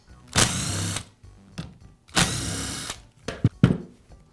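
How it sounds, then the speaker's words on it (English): A power driver whirs in short bursts while backing screws out of the hook-and-loop sanding pad on a Porter Cable sander, two longer runs followed by brief clicking pulses, close and fairly loud. "I'll remove the screws from the pad."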